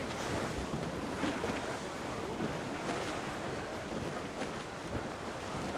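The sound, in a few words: rough sea waves and wind, Assassin's Creed Rogue video game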